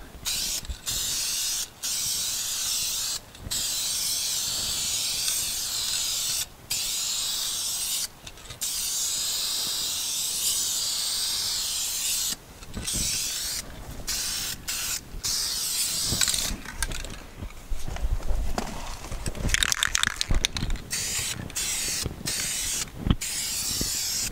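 Spray paint hisses from an aerosol can in long bursts with short pauses between them as coats go onto the wheels of a 1962 Chevy C-10 pickup truck, close and steady, with some handling noise toward the end.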